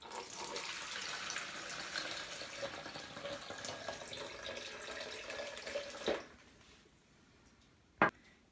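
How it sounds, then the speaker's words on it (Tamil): Soaking water draining and pouring off rice being readied for idli batter, a steady splashing trickle for about six seconds, then a short quiet pause and one brief clink near the end. "அதனால் அரிசியில் இருக்க தண்ணியெல்லாம் ஃபஸ்ட்டு நம்ம தனியாக எடுத்து வச்சிடலாம்"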